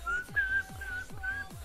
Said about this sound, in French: je sais que ça défonce les oreilles quand je siffle